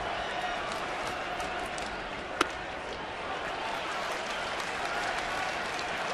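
A baseball stadium crowd at a Boston at Toronto game keeps up a steady wash of applause and cheering, with one sharp crack partway through.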